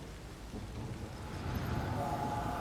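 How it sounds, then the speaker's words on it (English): A heavy rain downpour in The Witcher 3: Wild Hunt Complete Edition: a steady, dense hiss of falling rain that grows louder toward the end, with no voices. "This downpour's a bastard, it is."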